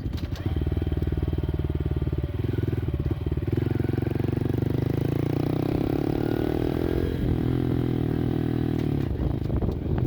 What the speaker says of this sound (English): If I go into third, this thing will not go much faster, but it's got power to climb on this pretty severe of a hill